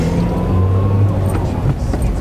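Talbot car being driven, a steady low engine drone and road rumble with a brief rising whine, a voice speaking over it.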